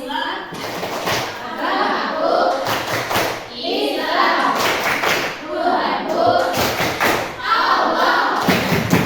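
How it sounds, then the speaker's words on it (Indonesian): A group performs the Tepuk Islam clapping chant. Bursts of rhythmic clapping and thumping repeat in steady cycles, and chanting voices run alongside the claps. "Semuanya bertepuk, ya."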